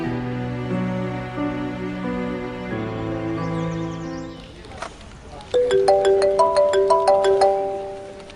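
A mobile phone ringtone for an incoming call plays a bright, repeating melodic chime, loud and close, right after a stretch of melodic music.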